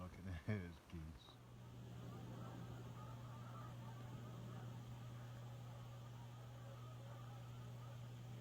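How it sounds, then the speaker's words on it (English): A few geese honk faintly in the distance beside a reservoir at 4 a.m. during a camping night, a brief cluster of calls at the start followed by a low steady hum. "All I can hear is geese."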